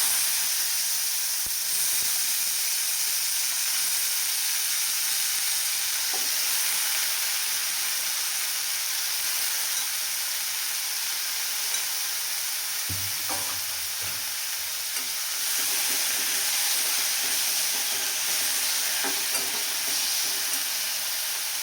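Shredded cabbage, with a pinch of turmeric, sizzles loudly and steadily in a hot pan on lowered heat, with occasional stirring scrapes under the continuous hiss.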